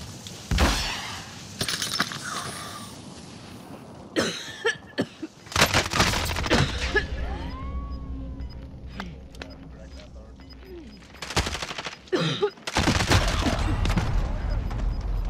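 Gunfire in Call of Duty Modern Warfare, sharp loud bursts of shots scattered through the clip with pauses between them, mixed with game effects and voices talking over the action.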